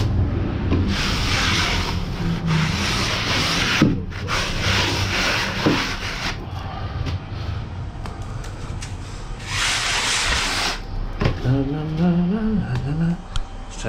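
Plaster being rubbed on a wall during a damp plaster repair, producing close, scratchy rubbing strokes in long sweeps with short breaks.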